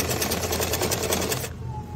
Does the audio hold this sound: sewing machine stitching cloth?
yes